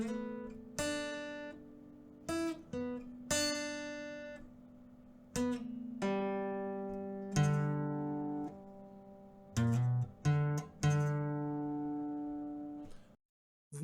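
Acoustic guitar plays a slow phrase, individual plucked notes and short runs including open notes on the fourth string, clear and close with pauses between phrases.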